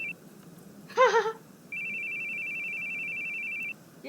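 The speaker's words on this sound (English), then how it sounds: "Your phone's ringing." A phone rings with a steady electronic tone lasting about two seconds, clear and fairly close, preceded by a short separate chirp-like burst.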